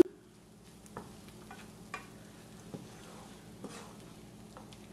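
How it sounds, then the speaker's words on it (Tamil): Maldive fish sambal being stirred and sautéed in a pan, with soft sizzling and several distinct scrapes of a spoon against the pan at a steady, unhurried rhythm, fairly quiet and without voices. "கிளறி இதை வதங்க விடுவோம்."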